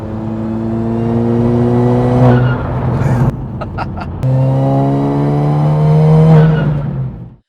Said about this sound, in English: The noises this thing makes now.